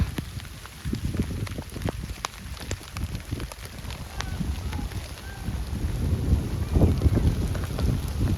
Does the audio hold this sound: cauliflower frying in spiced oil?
no